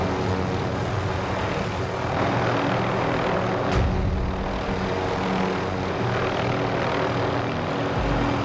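Aircraft flying in the video game Call of Duty Warzone, a steady, loud droning engine and rotor roar that continues throughout, with a brief sharp burst near the middle.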